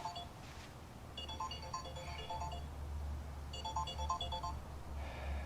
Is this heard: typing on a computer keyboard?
no